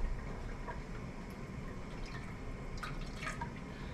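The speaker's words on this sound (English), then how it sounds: "we gotta add a little bit of water." Water drips and trickles into a pot of cooking macaroni, faint and close, with small splashy plinks over a low background hiss.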